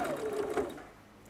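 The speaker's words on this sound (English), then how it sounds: "Have you changed your stitch on your sewing machine at all today" A sewing machine stitches in one brief whirring burst, running loud for under a second before it trails off.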